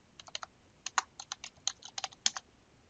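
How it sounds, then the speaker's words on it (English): A search query typed on a computer keyboard, a quick run of light, close key clicks in uneven bursts, alone and fairly faint. "Let's type in Bill Gates and see what happens."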